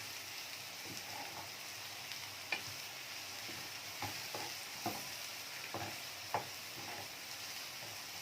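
Mushrooms sautéing in a pan for a beef piccata, with a steady soft sizzle and occasional sharp clicks of a utensil stirring against the pan.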